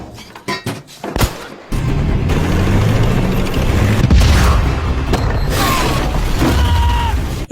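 A tank battle erupts with a few sharp gunshot cracks, then a sustained roar of explosions and rumbling booms with mechanical clatter, loud and dense throughout.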